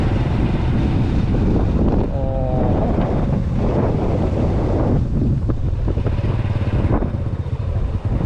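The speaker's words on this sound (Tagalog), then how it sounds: "Lakas ng hangin." Strong wind buffets the microphone outdoors on a new road near a proposed dam in Bulacan, Philippines, a loud continuous low roar with gusty rumble throughout.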